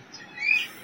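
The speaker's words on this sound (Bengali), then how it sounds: "সব সময় আমার বক বক করে পাখিটা" A pet bird gives a single short squawking call at a village home, rising briefly to a louder peak mid-clip before fading, heard alone against quiet background.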